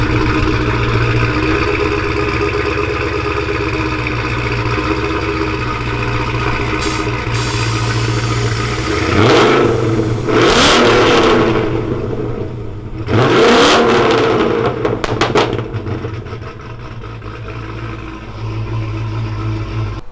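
A Mopar muscle car engine idles with a deep rumble, then revs hard several times in loud surging bursts before settling back into a steady idle.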